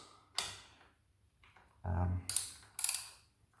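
Metallic clicks and clinks from a wrench snugging a part on a Honda CX500 motorcycle during an oil change: a sharp click, then a low rumbling scrape, then two bright bursts of metal contact, fairly close but not loud.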